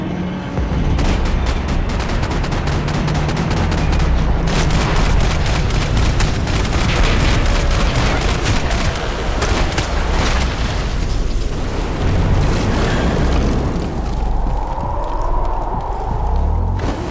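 Rapid gunfire from the video game Max Payne 3, dense bursts of shots and booms packed together over a loud, continuous action soundscape with no talk.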